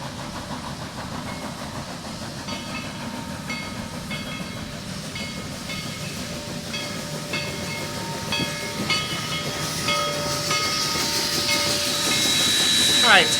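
A Niles Canyon Railway steam excursion train stands at Sunol, hissing steadily with mechanical clanks and ringing tones, the sound swelling louder toward the end as a shrill whistle-like tone enters.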